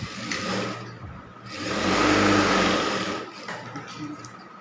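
A sewing machine stitches a cloth bag closed with a close, buzzing motor drone that rises in a sustained burst of stitching, eases off, and starts again in shorter runs.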